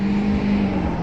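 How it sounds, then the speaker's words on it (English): A car rushes past on the road with a loud, steady whoosh and tire roar throughout a brief moment. "Car."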